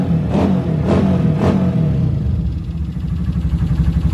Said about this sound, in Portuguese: a gente já volta com a passada da motoca